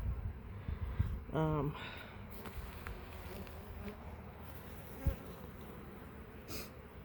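Honey bees buzz in an open brood hive, making a faint, close hum with a few louder passes of individual bees. A voice can be heard briefly.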